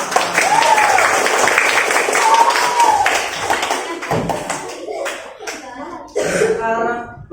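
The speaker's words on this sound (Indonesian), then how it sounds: "Oke, tepuk tangan buat dia." Children in a primary-school classroom clap together, a dense burst of applause with voices calling out over it, then the clapping thins out into scattered taps and chatter.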